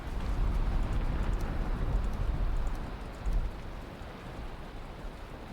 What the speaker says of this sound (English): Oh, it's a rain day.